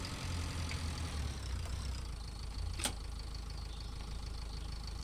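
A tractor engine idles in the Pure Farming 2018 farming game, a low rumbling drone holding steady throughout with a brief clank near the middle.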